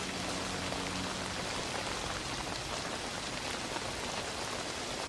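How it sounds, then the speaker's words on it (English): Steady rain falls in a continuous hiss of drops hitting a surface, even and unbroken throughout, with no talking. "It's like, it's raining."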